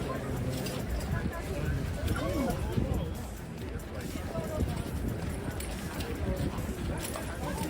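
Horse hooves clip-clop on the ground in a busy, uneven rhythm under steady outdoor noise, with a murmur of voices in the background, as tourists approach Royal Guards' horses.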